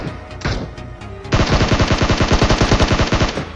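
Automatic gunfire in PUBG: a short muted burst, then a loud rapid stream of evenly spaced shots that continues steadily to the end.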